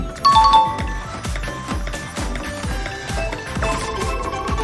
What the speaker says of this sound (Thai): นี่กระดิ่ง โอ้โหกระดิ่งกุ้งกิ้งกุ้งกริ้ง